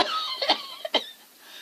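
A few short, dry coughs spaced irregularly over a steady hissing background, moderately loud and close.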